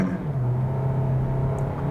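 A 2022 Hyundai Elantra Hybrid, front-wheel drive with a dual-clutch gearbox, pulls away from a brake-torque launch: a low, steady engine drone heard from inside the cabin, rising slightly and continuously over two seconds.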